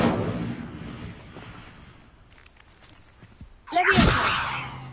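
Incendio fire spell cast in the Hogwarts Legacy video game: after a quiet stretch, a sudden loud burst erupts near the end, a sharp crackling whoosh that lingers and slowly fades.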